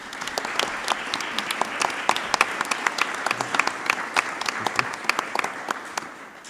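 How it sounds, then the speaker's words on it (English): A big round of applause from a forum audience welcoming a speaker, steady and lively, with many distinct sharp claps popping over the dense crowd clapping throughout. "So please welcome Sohaila. Big round of applause."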